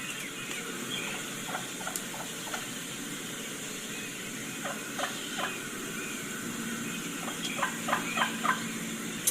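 Wild turkeys waking on the roost, giving faint, distant soft clucks and yelps in scattered small clusters over a steady outdoor hiss, with no voices.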